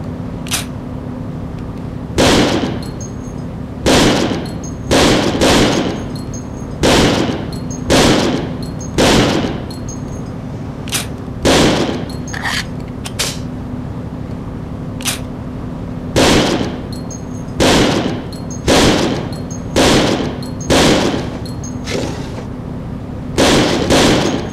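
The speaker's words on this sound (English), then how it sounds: "take this ammo and fire it all into the range" Gunfire at a video game shooting range: repeated bursts of loud, sharp shots in clustered volleys separated by short pauses, close and alone without any talk.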